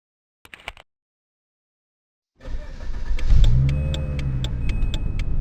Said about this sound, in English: Start your vehicle and take a right out of this parking lot.